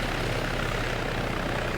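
A military helicopter in the Arma 3 video game arriving overhead in a Cold War setting, a loud, steady engine and rotor drone that stays constant and fills the short moment, with no talking.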